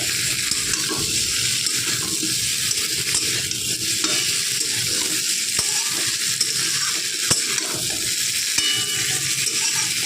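Potatoes frying in a pan until lightly browned make a loud, steady sizzle throughout, with occasional sharp taps of a utensil against the pan, close up and without speech.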